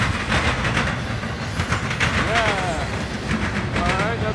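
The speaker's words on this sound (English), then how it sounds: "There goes the intermodal freight." A Norfolk Southern intermodal freight train passes southbound close by, a steady rolling rumble with rhythmic wheel clatter and some squeal, while a voice talks intermittently over it.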